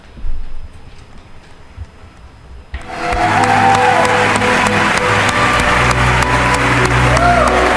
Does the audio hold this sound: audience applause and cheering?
yes